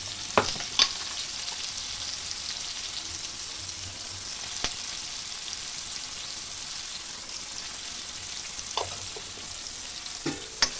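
Spices and turmeric fry in hot oil in a pan, a steady bright sizzle running throughout with a few sharp clicks and scrapes of stirring, close and fairly quiet.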